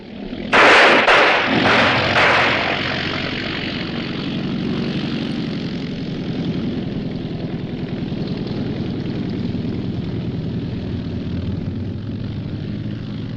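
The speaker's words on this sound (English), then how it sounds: "That's a pickup plane." A propeller pickup plane flying low overhead: a loud, rushing burst at the start settles into a steady, droning engine roar that carries on throughout with no talk.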